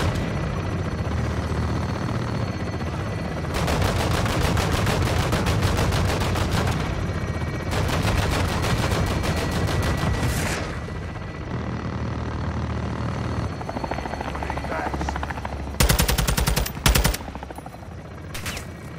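Called-in fire support in the Call of Duty: Modern Warfare 2 campaign, with loud bursts of automatic gunfire and booming impacts that rise and fall in long stretches over an aircraft-like drone, ending in a sharp final volley.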